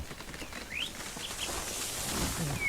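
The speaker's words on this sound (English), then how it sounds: "It is much nicer if you have like bird singing sound effects going in the background." Ambient bird song from the Railroads Online game world, heard around an ironworks area: a few faint, brief chirps and tweets rise over a steady background hiss, with no talking.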